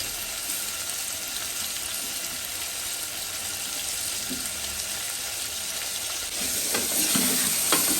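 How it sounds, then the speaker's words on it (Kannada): Chopped tomatoes fry in a pan, a steady close sizzle for about eight seconds, louder and busier near the end with stirring clatter and scraping, while cooking tomato rice bath. "ಇದು ಫ್ರೈ ಆದಮೇಲೆ ಟೊಮ್ಯಾಟೊ ಹಾಕಿ, ಕಟ್ ಮಾಡಿರೋ ಟೊಮ್ಯಾಟೊ ಆ್ಯಡ್ ಮಾಡಿ"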